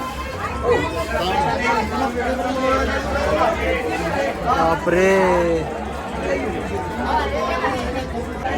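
A dense crowd of devotees at Ganagapur temple, packed close around the darshan, fills the air with steady overlapping chatter and babble, with nearby voices calling out above the hubbub.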